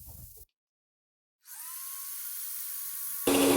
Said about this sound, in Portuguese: Vou levantar um pouco a batedeira, porque o creme é pouco para chegar e bater mais.